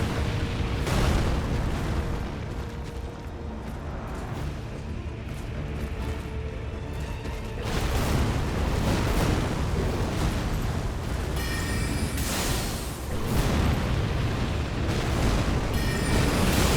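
Booming explosions from Godfrey's boss attacks in Elden Ring burst out repeatedly over a rough, loud roar of combat effects, with heavy impacts recurring across the stretch.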